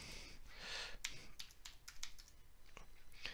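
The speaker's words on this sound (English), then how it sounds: "we'll start with typing photos as we did before" Quiet tapping on a computer keyboard, with scattered individual key clicks over soft background hiss and no voice.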